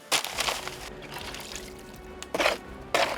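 Water splashes into a cement mix in short pours at a concrete patch job for a skate spot, bursts of gushing and splattering separated by a quieter steady wash, with no talking.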